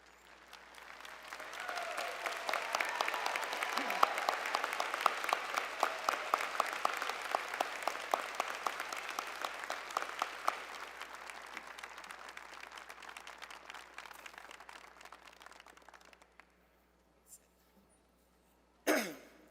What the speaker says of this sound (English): join in a round of applause for our students